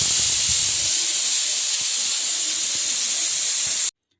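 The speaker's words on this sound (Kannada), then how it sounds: "ಆ ಕಡೆ ಎರಡು ವಿಸಿಲ್ ಕೂಗ್ತು" A pressure cooker vents a loud, steady hissing steam whistle while tomato bath cooks in a home kitchen. The whistle runs continuously for about four seconds, then cuts off abruptly into silence.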